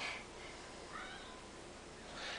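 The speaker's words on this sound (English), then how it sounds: "Do you see a kitty cat?" A domestic cat gives a few soft, high meows, spaced out over faint indoor room noise.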